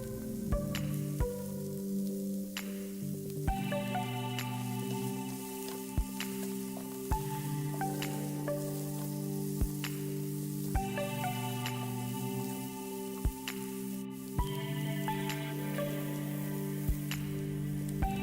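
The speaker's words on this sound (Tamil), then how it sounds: "இது கொஞ்ச நேரம் வதக்கிக்கலாம்." Carrot and other vegetables for chicken fried rice sautéing in a pan, giving a steady soft sizzle that runs continuously beneath louder background music.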